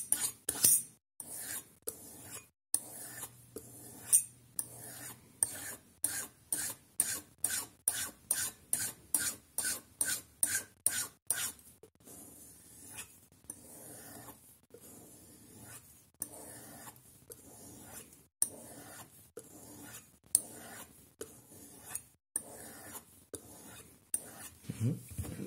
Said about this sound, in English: we can sharpen the edge so easily like this